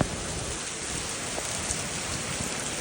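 Steady rain pours onto a New York City street during an August thunderstorm, a dense unbroken hiss of drops filling the scene with no voices.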